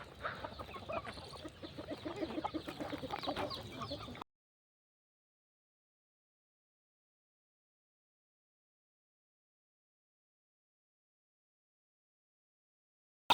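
Hens clucking and murmuring softly as they peck around, several birds close by, lasting a few seconds before falling silent.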